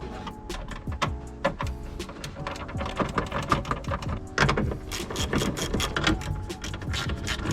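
A socket ratchet works on the tail light of a 1998 Mustang GT, giving rapid bursts of close, sharp mechanical clicking with brief pauses between runs.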